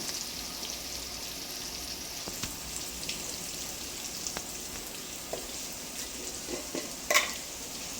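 Spicy chicken masala frying in a pan, a steady soft hiss of sizzling oil with occasional light stirring taps and one brief louder scrape near the end, close and fairly quiet, no voices.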